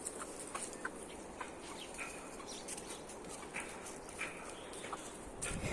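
Village hens cluck softly as a hen feeds her chicks, which peep in scattered, faint calls against a low outdoor background, with no talking.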